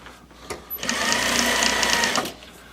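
A single steady run of a sewing machine stitching a seam in thick upholstery fabric for a club chair seat, a close, even mechanical whir lasting about a second and a half, with no talk.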